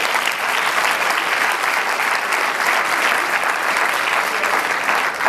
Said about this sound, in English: Clap your hands, my boy.